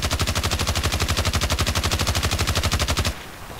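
A nerfed MG36 light machine gun fires one long full-auto burst in Battlefield Play4Free, with rapid evenly spaced shots hammering loud and close for about three seconds before cutting off into a brief tail.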